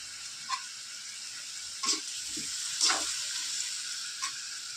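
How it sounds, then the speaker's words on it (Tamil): Food sautéing in a pan, a soft steady sizzle with a few faint stirring scrapes and clinks, heard alone at low volume. "அது கொஞ்சமாக நல்லா வதங்கட்டோன்னு"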